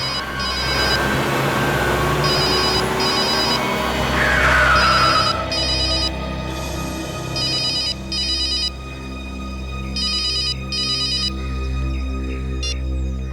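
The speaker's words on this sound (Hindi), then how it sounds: "सर, आपका फोन बज रहा है।" Phone ringtone chiming in repeated short electronic bursts, moderately loud over a steady low background rumble, with a brief sliding tone in the middle.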